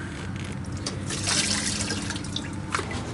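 Coolant drips and trickles steadily from a disconnected lower radiator hose on a Jeep Wrangler with a 3.8L V6, a close, continuous wet splatter with scattered louder drops.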